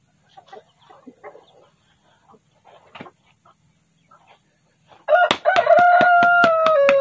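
A rooster on a farm crows loudly and close in one long drawn-out call after several seconds of faint clucking and soft chicken sounds in a quiet yard.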